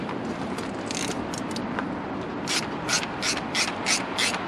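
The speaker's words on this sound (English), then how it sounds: "if I get my socket on there, get my ratchet there, make sure it's all the way around" A socket ratchet loosening a bolt on a BMW N47 diesel engine, its pawl clicking in short repeated bursts, close up, over a low background hum.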